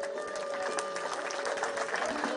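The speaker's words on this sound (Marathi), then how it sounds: "एकदा जोरदार टाळ्या होऊन जाऊ द्या।" An audience applauds at a felicitation ceremony during a satyagraha protest, a dense, continuous wash of clapping that holds steady throughout, with a faint voice mixed in.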